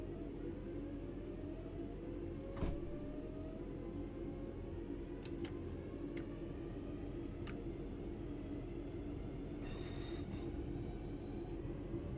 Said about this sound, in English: We want to move the train forwards